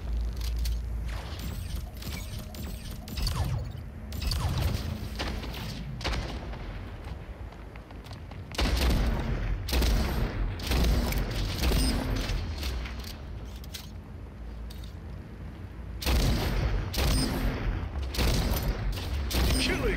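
Shotgun blasts and rapid gunfire in the video game SplitGate 2, with dense bursts of shots, heavy booms and mechanical clatter continuing throughout, some passages louder and fuller than others.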